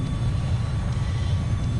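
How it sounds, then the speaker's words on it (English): Steady low roar of a jet aircraft in Battlefield 4, a dense engine rumble holding at an even level throughout with no voices over it. "There's a jet behind me trying to get a good shot."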